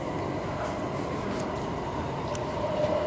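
An LA Metro Red Line subway train arrives at Western/Normandie station with a steady rumbling roar and a faint high brake squeal near the end, heard alone.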